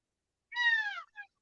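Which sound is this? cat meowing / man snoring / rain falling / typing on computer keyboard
cat meowing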